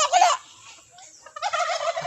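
Farm turkeys gobble in two loud, warbling bursts, one at the start and a longer chorus near the end, with a quieter gap between and no talk.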